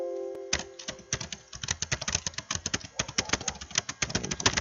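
Steady, brisk clicking of keys on a computer keyboard, close and continuous for several seconds, with a faint background hum.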